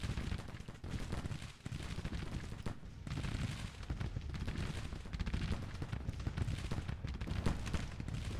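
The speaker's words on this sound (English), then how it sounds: "Eber comes back and starts to fire at closer range against Davies' detachment" Dense, continuous crackle of skirmisher musketry in the Grand Tactician Civil War strategy game, with overlapping volleys rolling steadily and loudly throughout and no pauses.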